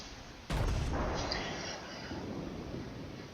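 A ship's gun salvo in World of Warships from a Nassau-class vessel: one sudden heavy boom, then a long rumbling roar that slowly fades, loud and close, with no talk over it.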